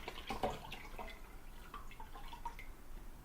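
Water drips and splashes faintly in small irregular plinks as a reborn doll kit is rinsed in a basin, soft and close with quiet room noise around it.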